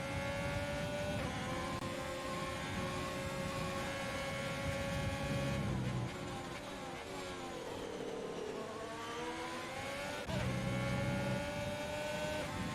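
Formula 1 cars lapping Silverstone in the F1 2020 video game produce a continuous layered engine whine, with pitch rising and dropping as cars accelerate and brake, steady and unbroken throughout.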